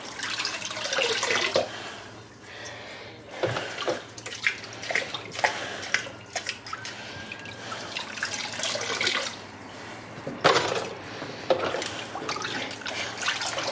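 Running tap water splashes steadily over Fluval 307 canister filter media as it is rinsed, with bursts of louder splashing and dripping throughout.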